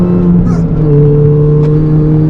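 A supercharged Mini pulls hard with a rising, whining engine note, loud and close from inside the car over a few seconds.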